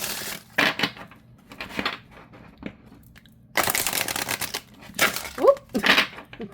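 Runic Oracle cardstock cards being shuffled, giving a few short bursts of riffling and rustling with quiet gaps between them and a longer dense riffle in the middle.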